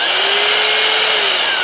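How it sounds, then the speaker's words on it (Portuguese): A DeWalt D25133K rotary hammer drilling without impact, whirring steadily at high speed, loud and close, with a smooth continuous whine and no hammering. "Furadeira sem impacto,"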